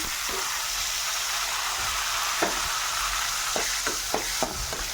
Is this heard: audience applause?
no